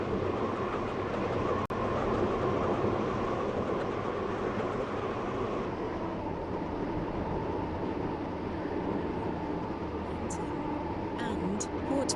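Passenger train running in the Stepford County Railway video game, a steady rumbling roll with a constant low hum throughout, one sharp click near the start and faint high chimes toward the end.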